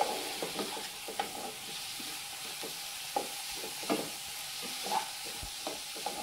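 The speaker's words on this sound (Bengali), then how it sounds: "একটু নাড়াচাড়া করে সবজিগুলো একটু ভাজা ভাজা করে নিতে হবে" Vegetables sizzle in a hot pan while a utensil stirs and scrapes them in irregular strokes, close and moderately loud, with no talking.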